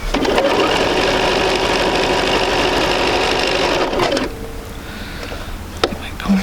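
A sewing machine runs steadily and loudly up close, stitching quilt pieces for about four seconds, then stops, leaving quieter handling sounds and a couple of clicks.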